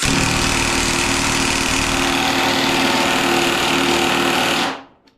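A Snap-on power tool whirs and hammers continuously while working bolts loose on a car under restoration, loud and steady for several seconds before cutting off abruptly.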